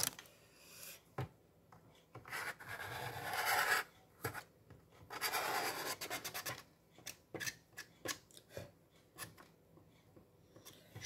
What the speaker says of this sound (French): Je fais le nettoyage du massicot au passage.